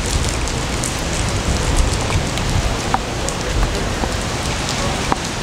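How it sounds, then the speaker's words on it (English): Steady rain falls outdoors near a post office, a dense, even hiss of drops on surfaces with a few sharper splashes, loud and continuous with no voices. "I'm going to step out in the rain."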